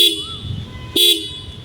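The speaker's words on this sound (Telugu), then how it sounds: "సింగిల్ హార్న్ అయితే ఉంది. సౌండ్ వినడానికి బాగుంది లౌడ్గా." A single horn on a 2026 TVS Apache RTR motorcycle gives two short, loud, close beeps, the second slightly longer, with no voices.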